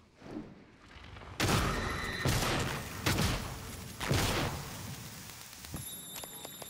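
Automated turret in the video game Prey letting off several loud bursts of fire about a second apart, each with a long bright noisy tail, followed by quieter clicks and a faint electronic tone.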